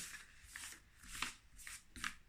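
Cardstock oracle cards shuffled by hand, a soft papery riffle repeating in four or five quick bursts, close and quiet with no talk.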